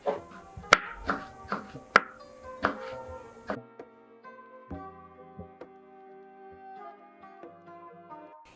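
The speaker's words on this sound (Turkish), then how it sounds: "Ben üzeri için acı biber doğrayacağım." Several sharp knife chops strike a board in quick succession as hot peppers are cut, then stop, leaving soft ringing tones and light clinks fading in a quiet room.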